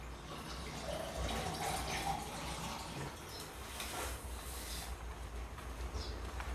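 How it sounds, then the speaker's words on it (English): Water pours into a pot of broccoli mushroom soup cooking on the fire, a quiet, steady trickle and splash close by that runs for several seconds with faint clatter and no talk. "And I guess we will get more water."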